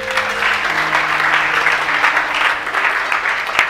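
A church congregation applauds during a live Sunday service, with loud, steady clapping from many hands that keeps going throughout, and no voices stand out.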